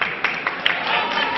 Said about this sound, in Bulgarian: Аплодисменти за Светозар Савов.